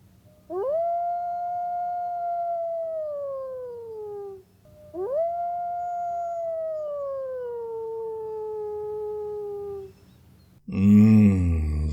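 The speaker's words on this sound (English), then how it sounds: "As you say, Mr. Harker, the wolves. Listen" Wolves howl at night, two long rising then slowly falling howls, each lasting several seconds and fairly loud, followed by a brief burst of other noise at the end.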